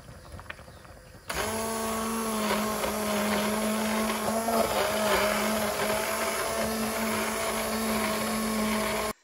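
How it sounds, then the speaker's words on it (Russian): After a brief quiet start, a blender whirs loudly and steadily for several seconds, puréeing thick cooked apricots, then stops abruptly. "можно пропустить джем через блендер"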